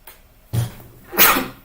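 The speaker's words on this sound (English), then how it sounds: "That is why I'm sneezing like that." A single sharp sneeze from a person, near and loud: a brief intake, then an explosive burst, with no talk around it.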